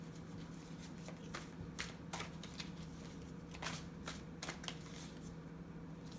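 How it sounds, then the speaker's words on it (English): Tarot cards are shuffled and handled close up, a soft run of riffling flicks and sharper snaps in irregular bursts, quiet and without voices. "Let's pull some more cards for you here."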